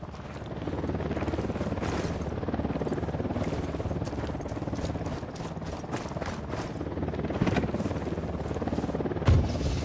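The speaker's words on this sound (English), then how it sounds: "Chopper inbound." A helicopter in Ghost Recon, a steady loud rotor thrum with rapid rhythmic chopping that fills the whole stretch without letup, growing slightly stronger toward the end.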